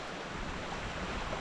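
A creek flows outdoors in elk country, a continuous broadband rush of moving water, steady and moderately loud with no voices.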